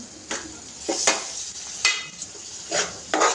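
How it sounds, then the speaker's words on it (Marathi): Tomatoes dropped into a pan of roasting masala for a rustic village-style mutton curry, bringing bright sizzling bursts and stirring scrapes at a steady spaced rhythm, close up with no talking. "तर आता टॅमॅटो टाकून घेऊ आपण"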